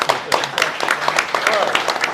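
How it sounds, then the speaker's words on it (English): Audience applause at a roundtable event, with brisk, dense clapping that carries steadily under a voice speaking over it. "let's give them applause"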